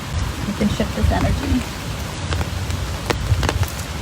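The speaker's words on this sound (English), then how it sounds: "It's starting to rain" Rain falls steadily at a lakeside park on Onondaga Lake, a soft continuous patter with scattered drop ticks, and a voice talks quietly underneath.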